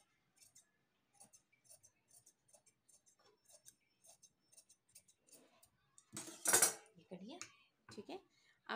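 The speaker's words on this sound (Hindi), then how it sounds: "अब इसको इस तरीके से पलटा दें और इसको हम एक हिसाब से काट लेंगे" Scissors cut through shirt fabric in a series of small crisp snips, quiet and close, followed by a louder rustle of the cloth being handled.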